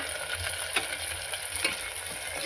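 Chopped onion and tomato sautéing in a pan for pav bhaji, a soft steady sizzle with a few faint scrapes of stirring, close and fairly quiet, with no voices.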